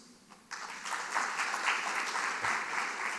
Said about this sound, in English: I think Nepal deserves a massive round of applause.